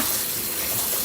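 Salted cabbage being washed in water, with a short, steady splash and gush of water sloshing close by.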